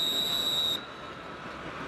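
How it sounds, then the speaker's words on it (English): A referee's whistle at a Canadian football game between the Winnipeg Blue Bombers and BC Lions blows one sharp, steady high blast for under a second, then cuts off into crowd murmur. "Now a whistle."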